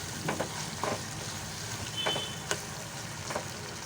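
Chana dal and chicken sizzle in hot oil for a Senagapappu chicken curry, a steady close frying crackle with a few sharper spatters and stirring scrapes throughout, no voices.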